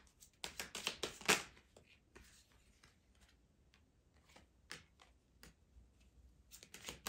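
Tarot cards riffled and shuffled close by in quick papery bursts, a dense flurry early on, then scattered softer flicks and taps with pauses between them.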